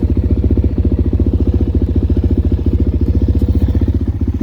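Suzuki Eiger 400 ATV engine idling loud and close, a steady rapid single-cylinder thumping pulse that keeps an even rhythm throughout, with no talking over it.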